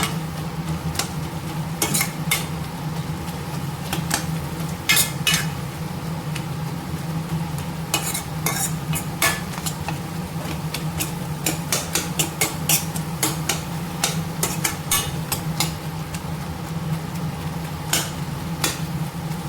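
Greens for a keerai kootu with green chillies are stirred and mashed against the bottom of a cooking pan, giving repeated close scraping and knocking strokes over a low, steady bubbling background.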